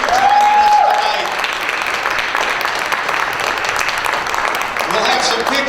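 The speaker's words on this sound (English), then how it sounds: "Give them a big round of applause." Audience applause for the court at the Miss Armada pageant, loud continuous clapping from a crowd filling the room, with a voice briefly audible at the start and end.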